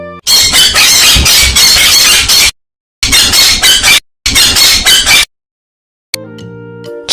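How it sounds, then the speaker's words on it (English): A parrot gives harsh, shrill squawks in three loud bursts separated by short silences, followed by light music. "P for parrot."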